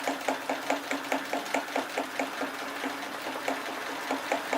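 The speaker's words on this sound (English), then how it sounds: "The machine's going to be way too noisy to talk over." A sewing machine quilts a herringbone cushion, running alone in a steady, fast, even stitching rhythm with a continuous motor hum, close and fairly loud throughout.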